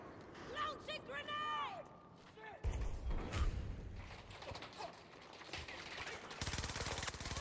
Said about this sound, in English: I see shooting.